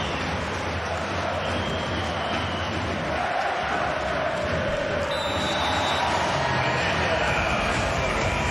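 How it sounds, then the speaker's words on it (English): A large crowd roars at a men's volleyball match with a broad, continuous wash of cheering and shouting, while a commentator talks over it. "listen to this crowd."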